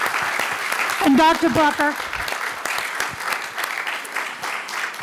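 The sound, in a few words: audience applause for a seminar panel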